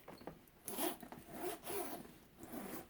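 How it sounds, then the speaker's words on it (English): A metal zipper on a Coach leather briefcase is pulled open and closed a few times, giving short bright ripping zips that are quiet and close, with no speech. "you can hear that. It's much better zipper sound."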